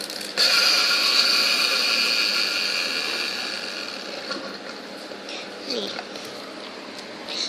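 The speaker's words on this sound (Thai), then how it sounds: "นี่ เป็นเครื่องจักรเย็บผ้านะคะ แต่มันไม่ได้เย็บได้จริงหรอกนะคะ" Plastic toy sewing machine mechanism whirring and clicking steadily as it turns, loud at first then easing slightly, with someone speaking faintly over it near the end.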